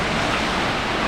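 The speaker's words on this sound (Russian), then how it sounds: "Море плещется." Sea waves wash continuously onto a rocky shore on La Digue or Praslin in the Seychelles, a dense, close hiss of surf with wind, and no voices.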